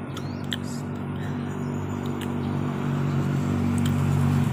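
Road traffic at a roadside by a workplace forms a steady, continuous rumble and wash of passing vehicles, with no speech over it.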